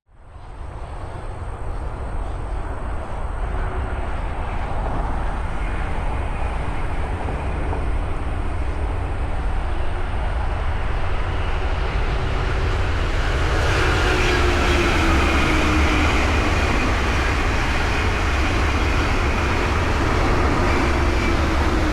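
An eastbound ten-coach Brightline passenger train at Innovation Way in Orlando, Florida, roaring loud and close in a sustained rumble that builds and brightens as it passes.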